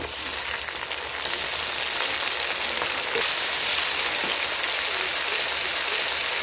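Tomato drops into onions frying in a pan, a continuous close sizzle that swells louder after the additions, with faint stirring and no talk.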